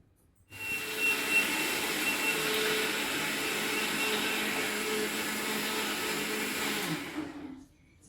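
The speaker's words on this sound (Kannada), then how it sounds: "ಸರಿ, ಮಿಕ್ಸಿ ಮಾಡ್ಕೊಳ್ಳೋಣ ಇರಿ." A mixer grinder blends mango for amrakhand, a loud continuous motor whir that starts abruptly, holds steady for about seven seconds, then winds down and stops, with no voices.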